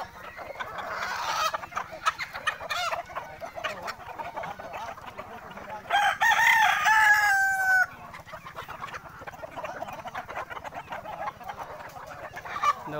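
Sonali desi chickens on a poultry farm cluck steadily, with a rooster crowing loudly near the middle, all close by and without talk over them.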